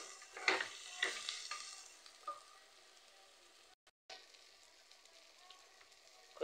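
Food frying in a pan in a home kitchen, with faint sizzling and a few scraping stirs, quiet and intermittent.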